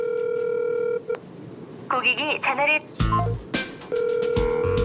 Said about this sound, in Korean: 계속 전화하는데 전화를 안 받아요.